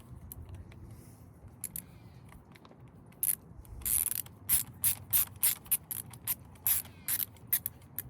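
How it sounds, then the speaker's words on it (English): Short ratcheting clicks in quick bursts from a screw being tightened into chrome grips on a 2022 Honda Goldwing DCT, close and fairly crisp over low background hum, with a quieter stretch before the clicking begins. "All right, let's put the other screw in."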